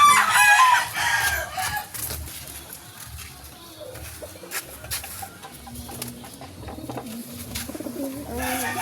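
Pigeons coo softly amid other birds, with a rooster crowing nearby and faint outdoor background noise.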